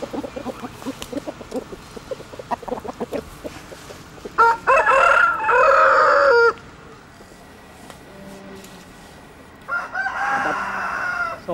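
Roosters bred for fighting in a Thai island village crow in two loud, drawn-out calls, the first preceded by clucking and scattered fowl noises, the second after a quieter pause.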